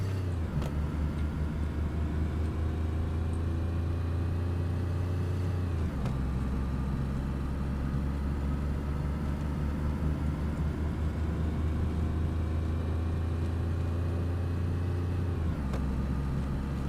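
Olga car engine in DayZ, a steady loud low drone while driving, with two brief dips at about 6 and 15.5 seconds as the revs drop and climb again, no talk over it.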